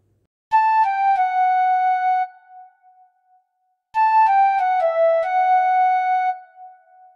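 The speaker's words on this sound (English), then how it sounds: "This is the piccolo flute," Piccolo flute preset from Purdy plays two short melodic phrases of bright, sustained high notes, each phrase a few seconds long and separated by a pause, clean and close with no talk.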